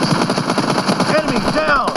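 Rapid automatic gunfire from the PUBG Mobile video game, a loud steady stream of shots across a team deathmatch, with in-game voice announcements layered over the shooting.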